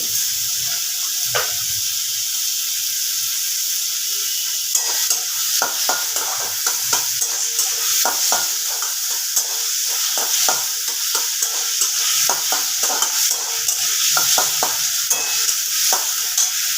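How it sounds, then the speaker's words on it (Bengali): Pieces of bottle gourd fry in a pan with a steady bright sizzle while a spatula stirs and scrapes in repeated close strokes, the hiss continuous and loud throughout with no talking. "লাউটা একটু ভাজা ভাজা হবে ভাজা ভাজা হয়ে গেছে"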